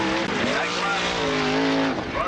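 Dirt speedway race cars at the 1985 War of the West scream past with rising and falling engine whines that overlap as they power through the turns, loud and close, with a voice over the roar.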